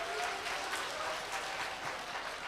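Audience at a mushaira poetry gathering claps continuously, a dense, even burst of applause from a crowd heard from within the hall.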